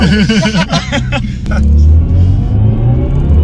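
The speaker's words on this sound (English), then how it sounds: "Wheel spin for like 3 seconds right there." An electric BMW i4 M50 launches hard in sport mode with wheel spin. A deep, steady rumble swells and holds inside the cabin, and a voice exclaims briefly just before it.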